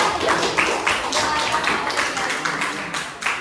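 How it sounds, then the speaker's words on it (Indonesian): A classroom group claps for classmates who have just given an arts and culture presentation, a steady patter of many hands filling the room at moderate loudness with no voices over it. "bentuk sekali tepuk tangan untuk kelompok yang sebelah sini"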